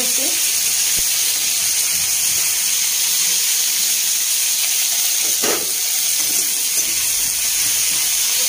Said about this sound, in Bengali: এ দেখো সব সবজিগুলো ভেজে নিয়ে তুলে রাখবো